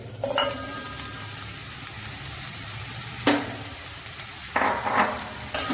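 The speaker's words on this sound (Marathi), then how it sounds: "हे मिक्स करून आता हातूंत हे शिजोवन घेवका" Chopped ridge gourd pieces with a little gram flour are stirred and cooked in a pan, giving a steady soft sizzle broken by a few brighter scraping strokes of the spoon.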